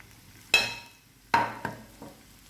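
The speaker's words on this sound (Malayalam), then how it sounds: "ജസ്റ്റ് ഒന്ന് വഴറ്റിയെടുത്താൽ മതി." Capsicum, carrot and spring onion sautéing in a pan, with a few sharp stirring scrapes and tosses over a low sizzle, close by and without talk.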